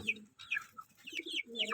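KUB hens, a crossbred village chicken kept as laying stock, give a run of short clucks and chirpy calls in quick succession, close by with no talk over them.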